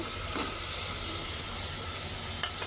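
Small fish frying in spice paste and oil, a continuous loud sizzle and hiss with a few faint stirring scrapes, close and without speech.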